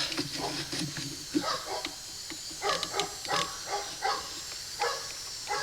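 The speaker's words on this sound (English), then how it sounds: "My neighbors have really stupid dogs." Dogs bark next door in a run of short, sharp yaps at a moderate distance. They come in irregular bursts over a faint background hum.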